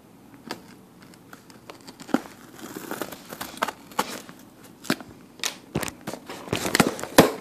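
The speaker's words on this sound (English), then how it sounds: "so let's unbox this" A Skylanders prize package from a 2014 Frito-Lay promotion is opened with scissors, giving close, irregular crinkles, snips and sharp plastic rustles that grow busier toward the end, with no voices.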